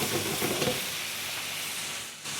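Water splashed into a hot frying pan while cooking taco filling, giving a loud, steady broadband sizzle and hiss that holds for about two seconds, then dips briefly and resumes.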